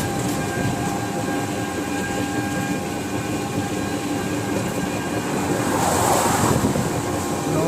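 A train rolls steadily at close range on a rail bridge near Mayapur, a continuous rumbling roar with faint metallic rattle, swelling louder toward the end, with no talk.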